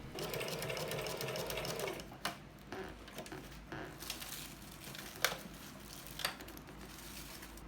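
A domestic sewing machine stitches darts in dressmaking fabric, running in a steady continuous whirring rattle for about two seconds, then stopping and restarting in short bursts with small clicks and handling noises.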